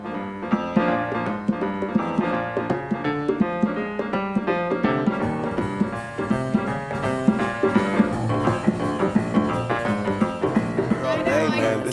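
A pianist plays New Orleans piano, with rolling rhythmic chords and a bouncing bass line heard at moderate level as a steady, lively groove.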